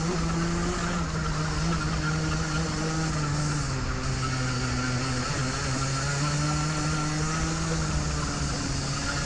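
Race car engine in a Masters race at Oakleigh, close and loud throughout, holding a droning note with brief dips and stutters where it cuts out approaching a corner.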